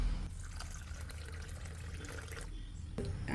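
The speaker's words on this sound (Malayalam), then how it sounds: "ഇനി ഇത് വെള്ളം ഒഴിച്ചിടാം" Water poured into a vessel of washed fenugreek and rice for soaking, a soft, faint liquid gurgle running steadily before stopping, quiet and close.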